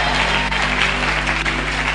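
A church congregation claps during a prophetic service, dense continuous applause filling the room at close range and high volume, with no pauses.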